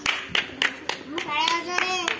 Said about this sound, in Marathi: ह्यांच्यासाठी टाळ्या वाजवा